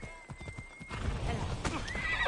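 A horse in the game Assassin's Creed Odyssey whinnies over clip-clopping hooves, the neigh rising toward the end, with a voice talking faintly beneath.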